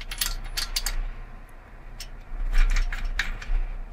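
A microphone is threaded onto the front of a DIY Merlin-style camera stabilizer, giving bursts of small, close metallic clicks and ratcheting ticks in two clusters, with a quiet low hum underneath.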